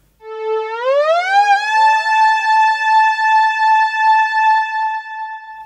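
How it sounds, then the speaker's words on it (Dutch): An air raid siren sounds the all-clear signal, rising from a low to a high pitch and then holding the high tone steadily, loud and alone. "Het signaal veilig is van laag naar hoog en dan op de hoge toon blijven."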